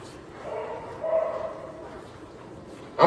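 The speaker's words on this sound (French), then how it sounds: "les cris du chien sont assez dérangeants" A dog yelps and cries in drawn-out, wavering whimpers at moderate distance, with a louder sudden sound at the very end.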